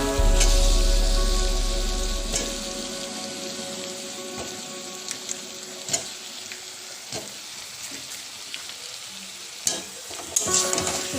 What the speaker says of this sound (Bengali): আলুগুলো দিয়ে মশলাটাকে ভালো করে কষিয়ে নেব